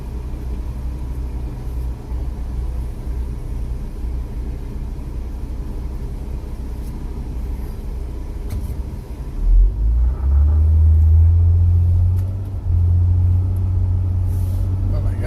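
A car on a road gives off a steady low rumble throughout. The engine and road noise swell into a stronger, deeper drone partway through as it pulls away, then settle back.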